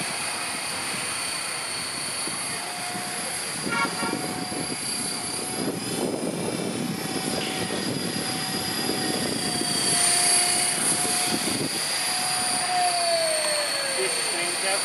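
Radio-controlled model helicopter flying nearby, a steady whining engine and rotor drone with high tonal whistles that rises and falls in pitch, with people talking over it.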